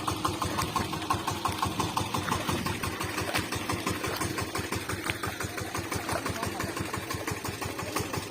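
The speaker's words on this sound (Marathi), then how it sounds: "हा आमचा तेरा एच पीचा ट्रॅक्टर आहे पॉवर टेलर" A 13 HP power tiller tractor engine runs in a muddy paddy field during rice transplanting season, its steady, rapid chugging pulses held at an even pace and heard fairly quietly from some distance throughout.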